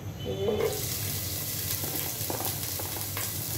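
Onions sizzle steadily in hot oil in a pan while a Bengali mixed-vegetable fish dish is cooked, a constant crackling hiss with a brief low tonal sound near the start.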